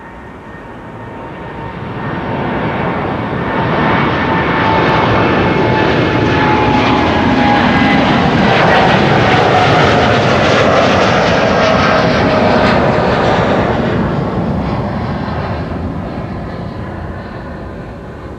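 KLM Boeing 787-9 Dreamliner departing Amsterdam Schiphol, a long jet roar that swells as the airliner climbs past, peaks in the middle with whining tones, then slowly fades, with no voices.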